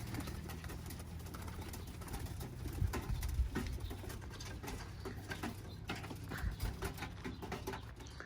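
Roller pigeons cooing as a group gathers, soft low coos repeating over a steady outdoor background hum, close and moderately faint, with no talk.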